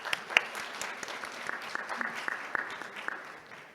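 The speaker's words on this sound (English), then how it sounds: "Please give him a warm round of applause." Sparse, scattered clapping from a small forum audience, faint and distant, with individual claps standing out before trailing off.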